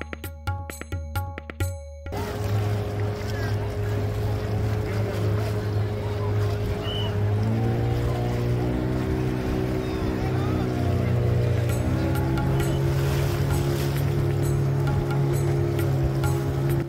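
A motorboat's engine drones steadily and loudly while the boat carries pilgrims across the river at the Prayagraj Mahakumbh, its pitch rising a step midway, with rushing water and crowd voices behind.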